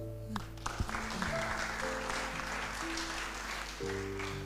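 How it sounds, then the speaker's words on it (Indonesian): An audience at a church gathering applauds for a few seconds, a moderate, even wash of clapping over a low background hum. "Kita berikan aplaus dulu."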